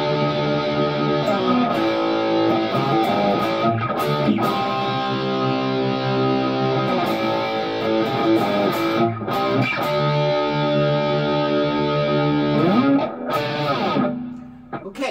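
Electric guitar lick played on the bridge pickup of a humbucker guitar modded PRS-style, a continuous driven, distorted run of notes, loud and close, fading out near the end.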